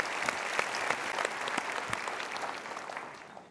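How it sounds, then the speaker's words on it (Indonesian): Dense applause from a crowd, steady and fairly distant, gradually tapering toward the end. "kita berikan tepuk tangan dulu"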